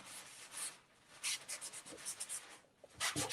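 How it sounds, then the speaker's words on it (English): Paper towel wiping wet oil paint off a sky area of a canvas, soft brushy rubbing strokes in short bursts with pauses, faint and close. "I might come back in with my paper towel and explore what I can do with lightening some values in the sky just with wiping away"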